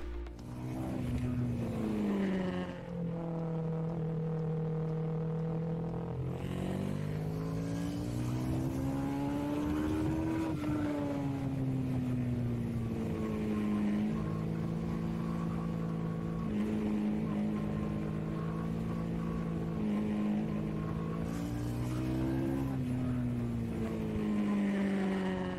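A CFMoto 650 GT sport-touring motorcycle engine pulls steadily while riding, its tone rising and falling through gear changes across a long continuous run with wind noise and no talk.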